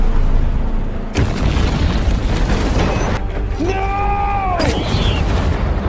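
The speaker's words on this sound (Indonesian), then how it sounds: "Hal itu mengakibatkan ledakan di dalam tanah." Explosion deep inside a mine set off by a spark, a film sound effect: a loud, heavy boom and rumble filling the space, followed by rising whistling tones and a sustained roar.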